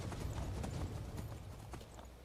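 Hoofbeats of Shadowmere, a black horse ridden in Skyrim Special Edition, clip-clopping at a steady, brisk pace, fairly close, over low game ambience with no talking.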